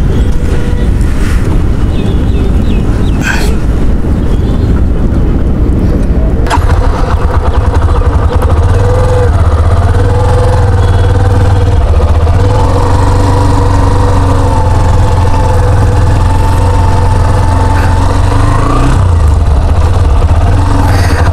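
A Hero Xtreme 125R motorcycle engine rumbles loud and steady while being ridden, with a sharp change a few seconds in and wind buffeting the microphone throughout.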